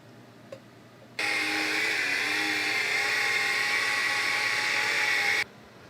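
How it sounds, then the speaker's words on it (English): An Instant Pot blender runs steadily for about four seconds, whirring loudly at close range as it blends fermented ingredients for hot sauce, starting and stopping abruptly with no talk over it. "For this, we use the Instant Pot Blender."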